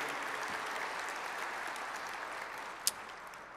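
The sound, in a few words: audience applause for servers at port breakfast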